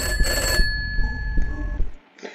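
A telephone ringing in a video game, a loud close electronic bell-like ring that sounds briefly, stops and gives way to quieter in-game noises and a short final tone.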